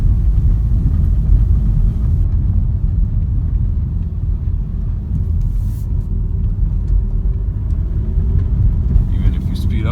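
A Škoda Karoq Style 2.0 TDI in 4x4 mode crosses a bumpy, muddy off-road track, giving a steady, loud low rumble of tyres and engine from inside the cabin with a voice talking over it.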